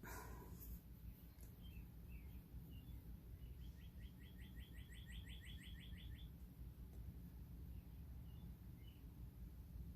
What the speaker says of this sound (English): I can hear my little birds talking outside.